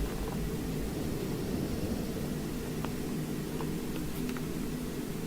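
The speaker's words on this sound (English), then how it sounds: "So I have a white noise machine going most of the time." A white noise machine hisses steadily in a room, a flat broadband wash with a low rumble beneath, constant and unchanging throughout.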